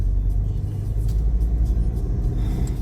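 Loud, close rumble of a car driving home on the road, continuous low engine and tyre noise with slight surges, no voices.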